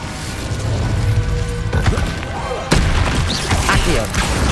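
Incendio fire spell cast in the video game Hogwarts Legacy, a roaring, whooshing flame effect with sharp booming hits partway through, loud and busy.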